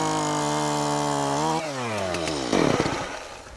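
Chainsaw cutting through a tree branch just below a knuckle during a DIY renovation in Wales: a loud, close engine whine that holds steady, drops in pitch as the chain bites, then revs up again near the end.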